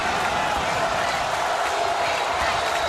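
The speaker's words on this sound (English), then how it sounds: "Crowd gets a little louder here in College Park." A college women's basketball crowd in College Park cheering, a dense, loud, continuous roar of voices and applause filling the arena.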